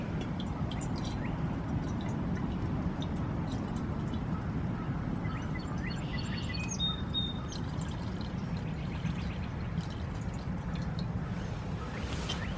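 Liquid for hot chocolate is poured into a stainless steel pot on a wood stove outdoors, a soft continuous trickle with light drips over a steady low background hiss, close and quiet.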